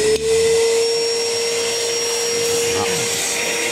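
A vacuum cleaner clears dust from a Toyota Century's engine area before a spark plug change, its loud steady whine running close and continuous after it switches on.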